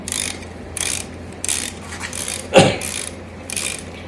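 Wrench working 17 mm rear shock bolts on a 1971 Yamaha RT1B 360, sounding as a series of five or six rhythmic ratcheting bursts with a sharper metallic clunk near the middle, close and clear with no talk.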